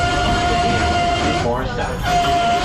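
Steady rumble and clatter of the Disney park train rolling along the rails at night, with a sustained tone running through it and a voice speaking briefly over the noise.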